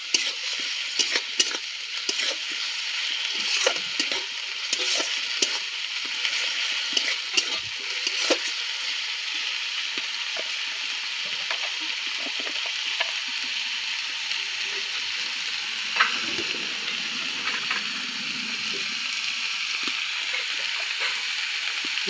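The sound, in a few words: frying spice masala with water in pan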